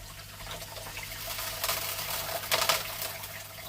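Water runs steadily over a gold sluice box, a constant close rushing flow with a few brief splashy surges partway through.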